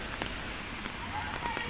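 Rain falls on a construction site in Spain, a brief steady patter with a few sharper drop hits, fairly close.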